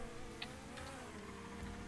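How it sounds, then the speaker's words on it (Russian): Insect-like buzzing from cars in a GTA Online skill test race, a thin steady drone over a constant game soundtrack, with a couple of brief higher chirps near the start and middle. "Блядь, как будто мухи жужжат."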